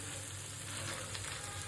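A large tilapia fish sizzling in hot oil in a pan for a barbecue-style dish, a steady, dense frying hiss throughout with no talking.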